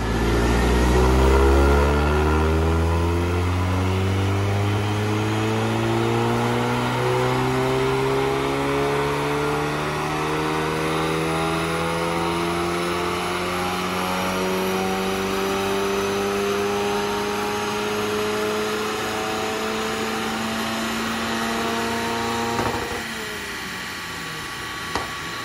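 A VW Golf GTI running a stage 2 tune roars through a full dyno pull, the engine note climbing steadily in pitch for over twenty seconds before cutting off abruptly and dropping back near the end, loud and close.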